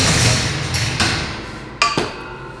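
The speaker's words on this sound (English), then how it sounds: "So I'm gonna put the bottom rack on." Metal shelving rack going together for a microgreen setup, with a few sharp metallic knocks and thuds from the parts being fitted, close and fairly loud.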